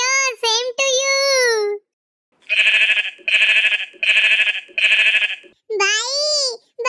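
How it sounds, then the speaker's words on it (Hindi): A goat bleats four times in a row, each a loud, wavering nasal burst, close by; children's voices are heard before and after the bleats. "भाई, बकरी भी आई लव यू बोल रही है।"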